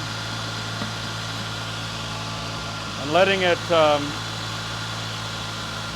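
A DeLorean engine hums with a steady low drone throughout while running coolant prep fluid, with someone speaking briefly over it near the middle.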